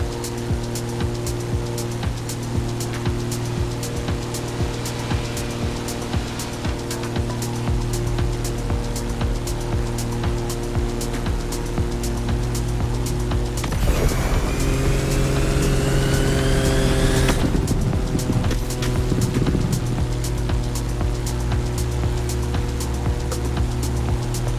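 Drift car engine in The Crew Motorfest racing game drones steadily and loudly, with rising revs and tire noise surging for a few seconds midway before returning to a constant hum.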